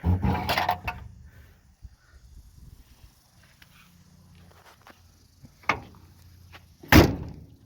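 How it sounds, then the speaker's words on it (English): Two sharp thuds of a 1959 Ford F500 truck's doors slamming shut, one then another a second later, preceded by a louder clunk and rustling at the start, with quiet handling between. "Doors open and shut real nice."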